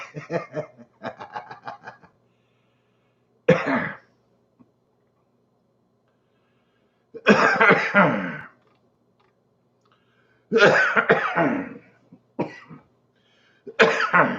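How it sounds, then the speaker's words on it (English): Someone coughs in several separate harsh bursts with quiet pauses between, close up, mixed with throaty clearing sounds. "I'm starting to cough and wheeze."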